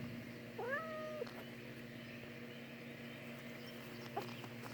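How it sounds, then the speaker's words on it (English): A pet cat meows a couple of times indoors, a clear rising call near the start and a short faint one later, over a steady low household hum. "Leave me alone, kitty."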